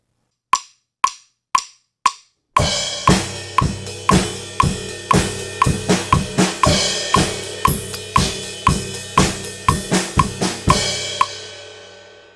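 A drum kit plays the chorus beat of a song: four isolated kick-like hits, then a full groove with regular pounding hits and bright cymbal wash continuing to the end.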